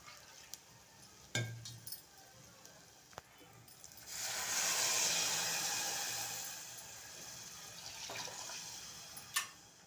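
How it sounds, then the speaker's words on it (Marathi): Water is poured into a mixer grinder jar to rinse off ground onion and coconut masala. A soft, rising rush of water swells midway and tapers off, close and fairly quiet, framed by a few light knocks from the jar. "मिक्सरच्या भांड्याला आणि मिक्सरच्या झाकणाला थोडंसं वाटण लागलेलं आहे तर हे पाणी टाकून आपण यामध्ये घेऊया"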